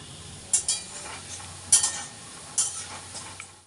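Dal and bora fritters fry in a home kitchen. A quiet, low sizzle runs underneath while a few sharp clinks and scrapes of a utensil stirring in the pan come at intervals, close by.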